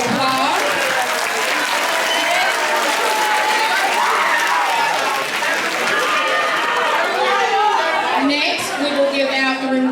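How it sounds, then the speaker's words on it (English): Loud, sustained applause fills a school awards day ceremony, with a dense crowd clapping throughout and some cheering and chatter mixed in. "Give them a round of applause."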